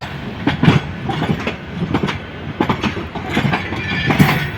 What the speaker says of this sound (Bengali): এই ট্রেনটি এখন যাত্রা শুরু করবে